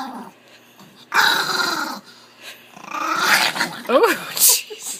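A dog in a laundry basket growls and snarls in rough bursts, with high yips mixed in, while a person talks nearby.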